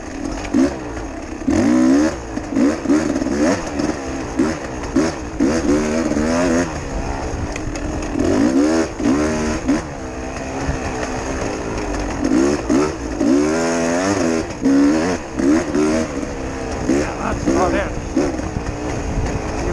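A Beta 300 dirt bike rides through sand dunes, its engine revving up and down in repeated bursts close by, with someone talking over it throughout.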